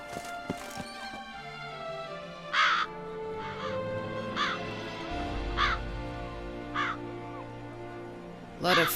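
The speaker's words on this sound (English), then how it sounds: "Lot of crows here." Several crows caw in harsh, evenly spaced bursts in The Witcher 3 game world, with a horse snorting and hooves clip-clopping nearby, all fairly close amid a tonal ambient backdrop.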